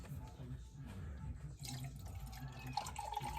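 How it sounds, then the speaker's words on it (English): Chicken broth poured into a pot while making chicken and dumplings, a steady trickling and dripping of liquid heard close up in a home kitchen for several seconds. "I'm gonna put a little bit of this broth in there"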